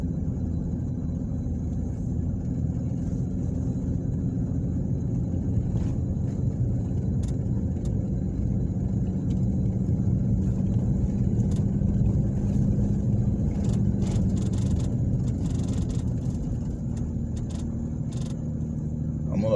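Steady engine rumble and road noise from inside a car driving a street in Ozark, Alabama, a constant low drone with light rattles and clicks near the end and no clear talk.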